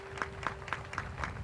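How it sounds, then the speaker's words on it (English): An audience applauds at a memorial roping event honoring the Alford family, steady clapping filling the short moment with rhythmic peaks and a faint background hum. "would you give the Alford family a round of applause"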